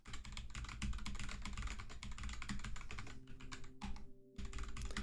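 Rapid clicky typing on a loud mechanical computer keyboard, close and continuous, with dense irregular keystrokes and a short pause near the end before the clatter resumes.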